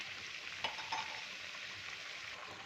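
Potato vadas made with sorghum flour and gram flour deep frying in oil, a steady, even bubbling hiss with a couple of small stirring touches, quiet and unbroken.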